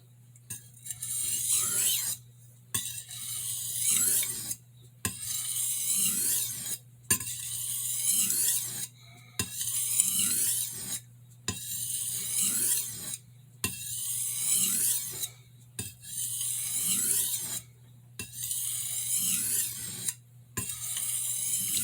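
A santoku knife blade is stroked across a sharpening stone in steady repeated rasping passes, about nine strokes separated by brief pauses, close and clear over a constant low hum, with no talking.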